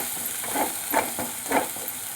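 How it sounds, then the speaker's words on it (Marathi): Masala roasts in oil for egg curry, a close continuous sizzle broken by three or four brief scraping stir strokes, with no voices. "तेल सुटस तर मसाला भाजायचा."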